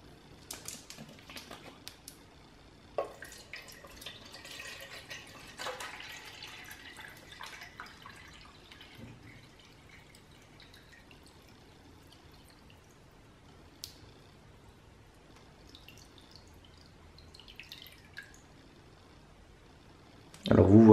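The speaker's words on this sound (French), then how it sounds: "Je vais maintenant verser le contenu de cette bouteille dans mon cube de départ." Water is poured from a one-litre bottle into a one-cubic-decimetre cube, making faint trickling and dripping sounds in a quiet room.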